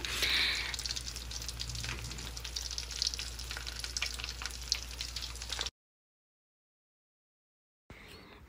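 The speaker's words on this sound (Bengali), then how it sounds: "এখানে ইলিশ মাছ ভেজে নিচ্ছে ইলিশ মাছের সাথে বিরিয়ানি খাওয়া হবে আজকে এটাকে খুব ভালোভাবে কড়া ভেজে নিচ্ছে" Hilsa fish deep-fries in a home kitchen, a steady crackling sizzle that is fairly faint, then drops out to silence and returns briefly.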